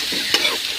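Chopped chow chow being stirred in hot coconut oil with mustard seeds, a brief close scrape of the spoon over a steady frying sizzle.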